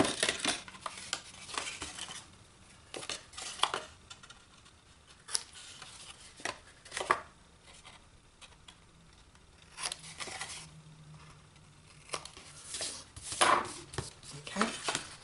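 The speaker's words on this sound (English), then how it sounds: "we are going to angle cut each of these corners" Scissors snipping angled corners off a cardstock cover, giving sharp, close clips at irregular intervals with handling rustles in between, all fairly quiet.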